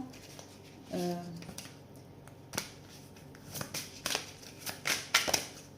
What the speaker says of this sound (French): je vais encore demander une dernière carte